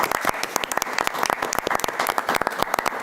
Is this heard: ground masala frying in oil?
no